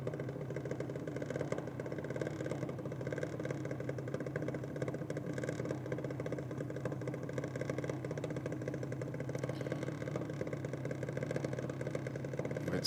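A drag racing car's engine drones steadily throughout a solo run at a drag strip, a dense, continuous rumble heard at moderate distance with no talk over it.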